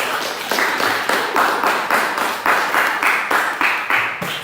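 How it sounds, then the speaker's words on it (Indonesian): A classroom group claps together in a steady unison rhythm, about eight even beats in a row, fairly close and clear. "Kita beri aplaus dulu untuk kita semua."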